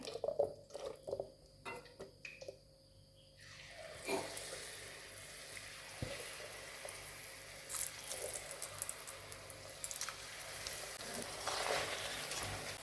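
A batch of cauliflower pieces fries in hot oil, giving a close, crackling sizzle that swells and stays dense after a few seconds of quieter clinks and handling.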